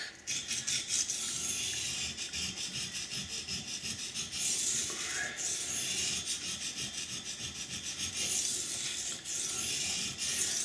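Knife edge ground on a coarse sharpening stone, a continuous close rasping scrape in steady back-and-forth strokes with brief pauses, no talking.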